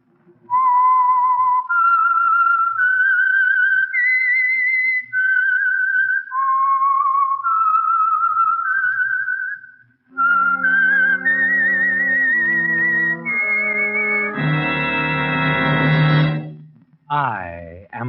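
A melodic whistled tune of long, sliding notes plays alone, identifying the 1949 radio program The Whistler, followed by a brief orchestral swell that rises and cuts off abruptly.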